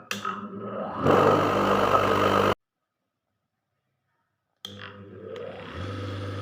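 A shoe grinding machine starting up: a loud, close motor whir and roar builds and holds, cuts off abruptly into silence, then the motor hum returns and steadies.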